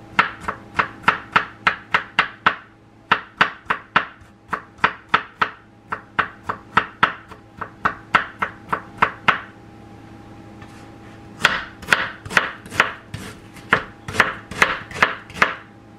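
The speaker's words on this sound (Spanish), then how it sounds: "Aquí voy a empezar a picar todo. Los dos dientes de ajo y la cebolla." Two garlic cloves and an onion being chopped on a board, fast rhythmic knife strikes in bursts of about ten rapid chops, a short pause, then more quick chopping, close and crisp.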